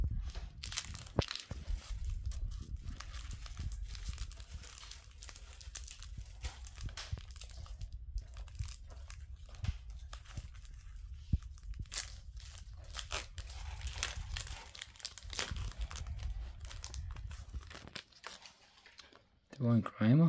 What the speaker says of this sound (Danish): Velkommen til udpakning af Pokémon-kort.